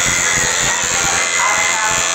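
An electric shaver buzzes continuously and close up during a barbershop shave, a steady hum with faint movement beneath it and no clear talk.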